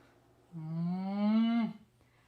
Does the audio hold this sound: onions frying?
no